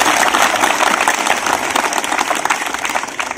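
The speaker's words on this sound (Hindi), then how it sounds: "ताली बजाना।" An audience at a live public speech claps together in a dense, sustained round of applause, steady and fairly loud throughout.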